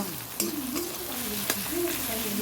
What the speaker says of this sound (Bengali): দেখো পেঁয়াজটা ভাজা হয়ে গেল